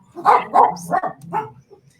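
A dog barks close by, several quick, sharp barks in a short burst, loud and clear with nothing else around them.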